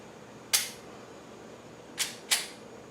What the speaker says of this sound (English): from the same 17-foot mark, I'm going to take 5 shots.